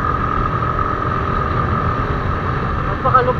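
Suzuki Thunder 125 motorcycle engine running, said to have a damaged piston, a steady close rumbling drone throughout with a slight rise near the end.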